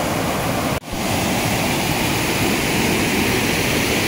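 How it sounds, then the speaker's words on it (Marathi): Heavy water rushing at Bushi Dam after rain, a loud, steady broadband roar that fills the whole clip close by, broken only by one brief dropout near the start. "पाणी वाहतं इथं"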